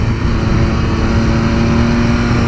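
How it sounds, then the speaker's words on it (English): 2018 Triumph Speed Triple RS three-cylinder motorcycle with baffled end cans accelerating, a loud steady engine drone with a rising harmonic tone. "Great note out of the triple."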